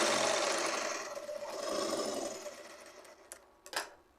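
A sewing machine stitches fabric in a fast steady whir that slows and stops, followed by a couple of brief clicks and handling knocks, quiet and close with no talk.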